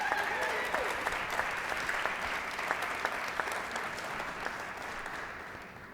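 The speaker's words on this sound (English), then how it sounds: "can you give our friend David Sittenfeld a round of applause?" An audience at an evening award event honoring Dr. Robert Bullard applauds for David Sittenfeld, a dense steady wash of many hands clapping in a hall with a few louder individual claps, gradually easing off toward the end.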